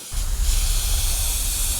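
A siphon-feed paint spray gun spraying at 25 psi gives a steady, loud, broadband hiss that starts abruptly and holds evenly throughout, with a low rumble beneath and no voices.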